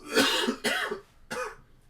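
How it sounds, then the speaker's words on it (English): Three rough, forceful coughs from a man, close and fairly loud, the last one a little weaker. "Why you hear somebody coughing in the background?"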